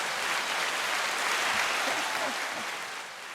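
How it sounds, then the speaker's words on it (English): An audience applauds a comedian on a podcast, a dense wash of clapping that holds steady and then fades slightly at the end. "Round of applause"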